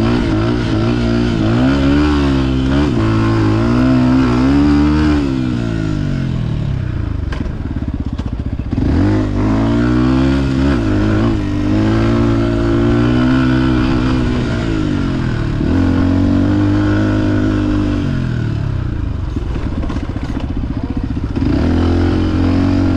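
Beta 125 dirt bike revving hard and climbing through the gears, engine note rising in repeated sweeps with brief dips at each shift, loud and close throughout with no talking.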